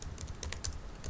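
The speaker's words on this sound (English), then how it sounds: "just type on the keyboard office document" Short burst of typing on a computer keyboard, a quick irregular run of close, crisp key clicks on its own with no talk.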